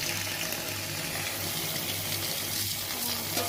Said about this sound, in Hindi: नूडल्स मैंने छलनी में निकाल दिए हैं। अब हम इसके ऊपर डालेंगे ठंडा पानी।